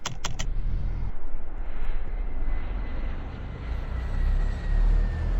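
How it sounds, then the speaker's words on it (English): Airliner engines start up in the Eurofly flight simulator game, a few clicks followed by a steady, swelling whine and low roar that builds over several seconds. "we're going to turn on our engines."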